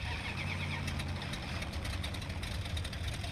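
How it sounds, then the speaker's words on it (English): An old V8 in a modded 1968 Chevy Panel Truck in the Mudrunner game rumbles steadily at idle, a low, loud, rough throb that continues without a break. "It sounds rugged, old V8."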